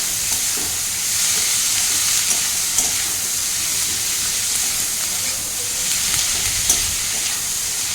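Onions fry in a pan for chicken curry, giving a steady, bright sizzle and hiss throughout, with occasional soft scrapes as they are stirred.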